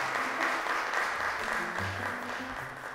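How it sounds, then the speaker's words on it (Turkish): Studio audience applauding contestants on a Turkish religious quiz show, a dense, even round of clapping lasting a few seconds and slowly easing off. "Teşekkür ediyor ve alkışlıyoruz arkadaşlarımızı."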